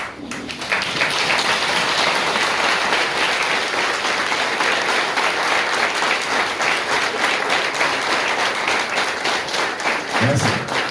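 A church congregation applauds Pastor Luc Polémon at a ministry anniversary service, a loud, continuous round of clapping that holds steady for about ten seconds before a brief thump near the end.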